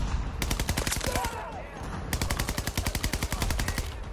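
Automatic gunfire in Battlefield 2042 on a realism server, two long rhythmic bursts of rapid shots, loud and close, with a short pause between them.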